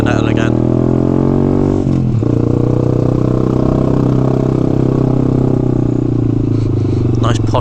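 A Honda Grom motorcycle engine runs steadily and loud at close range, a low idling drone with a brief dip near the two-second mark, while a voice talks over it.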